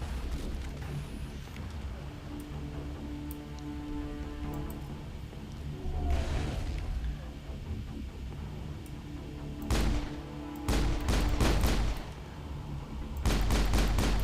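Gunfire from the video game Mass Effect during a firefight, with sharp loud shots and short bursts at intervals over a steady hum of game ambience and music.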